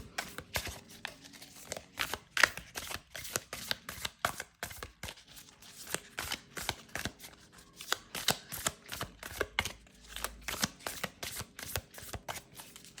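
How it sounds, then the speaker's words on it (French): Someone shuffles a deck of Cosmic Cycle Tarot cards close by. The quiet riffling and flicking goes on for the whole stretch as a fast, uneven run of crisp paper snaps. "on va tirer 2 cartes du Cosmic Cycle Tarot"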